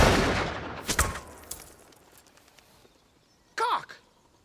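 A real gun fired in the short film Sandwitch: a loud sharp shot at the start with a ringing tail and a fainter crack soon after, then a brief voice later.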